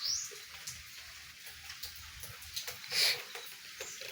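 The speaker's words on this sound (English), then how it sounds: "And this is rain." Light rain falling outdoors ahead of a typhoon, a faint continuous patter with scattered drips and a brief chirp-like sound, no talking.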